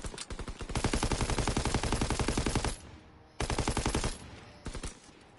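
Rapid automatic gunfire from a weapon in Call of Duty: World War II, long loud sustained bursts broken by short pauses, close and dominant with no speech.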